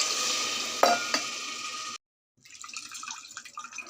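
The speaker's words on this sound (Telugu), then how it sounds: "వాటర్ వేసుకుంటున్నాను" Water is poured into a pan of fried vegetables for khichdi, a hissing, sizzling rush with a couple of sharp clinks, which stops abruptly and gives way to quieter bubbling and stirring.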